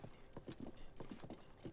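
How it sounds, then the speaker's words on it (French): A horse's hooves clip-clop in the video game Zelda: Tears of the Kingdom, a quiet, uneven run of quick hoof beats with no voices. "J'ai atterri sur mon cheval!"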